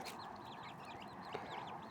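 Chickens, roosters and hens gathered at a livestock farm, giving repeated clucks and short calls over a steady outdoor background, fairly near and continuous.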